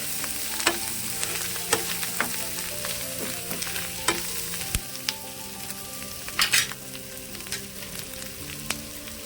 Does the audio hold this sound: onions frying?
yes